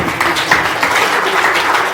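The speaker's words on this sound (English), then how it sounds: "Mr. Dike, give us a round of applause" An audience at a talk on drug abuse among youth breaks into steady, dense applause, a continuous even wash of clapping for two seconds with no voices over it.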